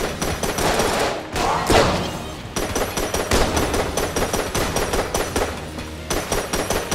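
Rapid gunfire from fat bullets in Enter the Gungeon rattles almost continuously, with dense overlapping shots and short pauses between bursts.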